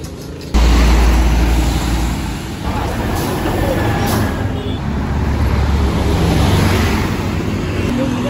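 Intercity bus HM 199 Capolista pulling in at roadside amid traffic, a loud low diesel rumble rising near the start and holding close for several seconds, with air hiss and road noise around it.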